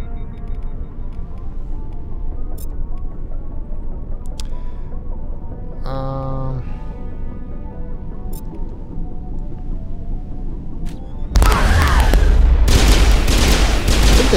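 Gunfire in Mass Effect Legendary Edition, with a rogue VI mission in play: a loud, dense burst of rapid shots erupts near the end, after a long stretch of steady ambient game sound and music, and keeps going to the close.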